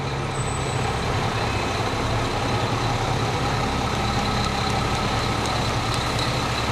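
A Linesville Fire Department truck idles loudly nearby during a waterfowl parade, giving a steady, continuous engine rumble with no breaks.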